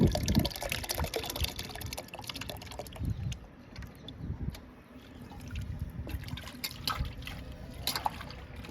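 Liquid fertilizer is poured into a 10-litre bucket holding about nine litres of water, producing close splashing and trickling that comes in uneven bursts, quieter in the middle, with no talking.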